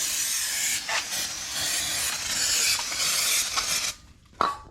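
Aerosol brake cleaner hisses in several sustained close bursts onto new brake rotors for a Tundra axle, with brief pauses between sprays and a short final blast after a quiet gap.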